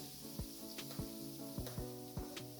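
Chopped onions sizzle in a hot pot after browning beef for a Namibian beef stew, a steady frying hiss broken by several sharp stirring scrapes, close and fairly quiet with no talking.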